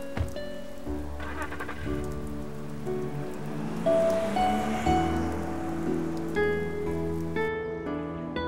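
Rain falls in a scene from a Hong Kong TVB stunt-team drama, a steady soft hiss of drops running under a swelling music score.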